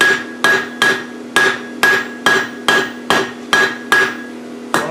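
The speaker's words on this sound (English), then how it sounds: "using the top deck of the anvil to bring everything back into shape" A blacksmith's hammer strikes hot steel on an anvil while a heart-shaped hook is forged, ten evenly spaced ringing blows about half a second apart, loud and close with a metallic ring after each hit.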